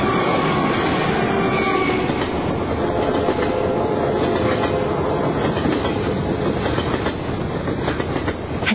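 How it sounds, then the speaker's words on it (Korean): A train speeds past a station platform at night without slowing, a loud continuous roar of rolling cars with rattling wheels and occasional squeals, steady throughout with no voices. "뜻밖의 기차는 속도를 조금도 늦추지 않은 채로 그들을 지나쳐가고 말았다"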